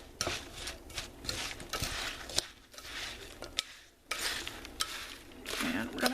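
Pecans are stirred with a little water in a bowl, making a close, continuous rattle and clatter of nuts against the bowl, with brief pauses between bursts of stirring.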